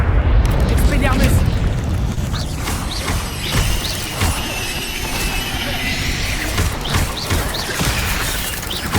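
Expelliarmus disarming spell cast in a Hogwarts video game, heard as a loud magical burst followed by booming, crackling and mechanical clatter over a steady game soundscape.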